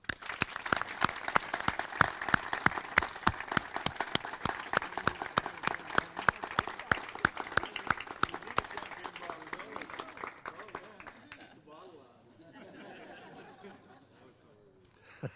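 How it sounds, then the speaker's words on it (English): Loud audience applause bursts out at the dedication of a college learning and student success center, dense clapping sustained for about ten seconds with some chatter and laughter, then fading into low murmuring crowd noise. "please join me in a round of applause to christen the Dale P. Parnell Center for Learning and Student Success."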